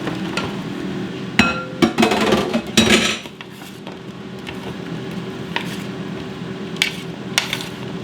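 Vegetables tossed and spread on a metal baking sheet, giving a few loud clattering scrapes and knocks in the first three seconds, then sparse light clinks over a steady low background hum.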